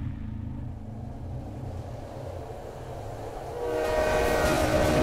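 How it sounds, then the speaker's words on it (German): A train pulling into a station in the Silent Hill 3 video game, a steady loud rumble of rolling wagons that swells near the end with a rising metallic screech or horn-like tone. "Da kommt der Zug, da kommt der Zug."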